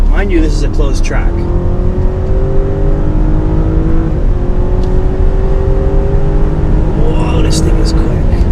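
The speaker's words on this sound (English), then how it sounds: "Whoa, this thing is quick." Loud, sustained engine roar from a 2019 BMW 750i sedan pulling hard on a closed track, the pitch sweeping upward through gears as occupants speak over it inside the cabin.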